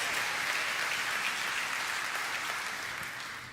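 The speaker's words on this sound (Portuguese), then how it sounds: "Pode dar uma salva de palmas ao Senhor." Church congregation at a worship service gives a steady wash of dense applause, a sustained hiss of many hands clapping at once that gradually fades toward the end.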